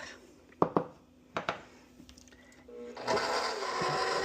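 Orange chocolate shortbread cookie dough being mixed, with a few sharp scrapes and knocks early on, then a steady, fairly loud whirring mixer drone for the last second or so.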